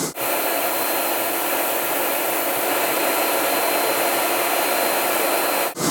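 A Versa Spa spray tanning booth runs its air drying pass, a loud, steady, close rush of blowing air that starts and stops abruptly and holds constant throughout.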